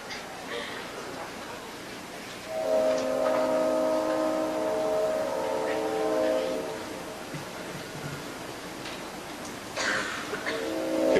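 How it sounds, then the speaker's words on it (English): Train passing by, with a sustained horn-like tonal sound for several seconds amid a continuous rumbling, noisy background, moderately loud and somewhat distant. "maybe the train will go by"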